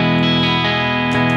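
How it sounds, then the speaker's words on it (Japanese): Electric guitar through a Hughes & Kettner amp with crunch distortion from a pedal, a sustained chord ringing loud and close with steady harmonic buzz and a brief re-strike near the end, no voices. "これ基本的にはもうケトナーの歪みで、これもこっちと一緒でクリーンからだんだんこう歪んでいく感じにはしてて"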